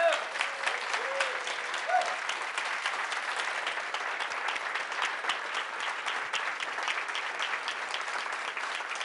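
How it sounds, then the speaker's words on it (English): Sustained applause from a crowd for a standing team at a live event, even and continuous throughout with faint voices and a brief whoop near the start. "Let's give them an amazing round of applause."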